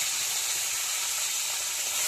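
Small chara pona fish frying in hot oil, a dense, steady sizzle and hiss up close, constant for the whole stretch with no talking.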